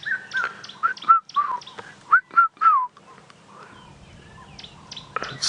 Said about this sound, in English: There's that red-chested cuckoo calling.